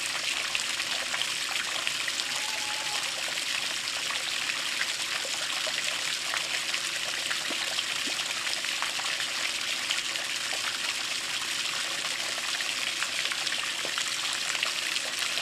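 Water from an Intex fountain in an above-ground pool trickles and splashes steadily at night, a close and even wash of running water with no breaks.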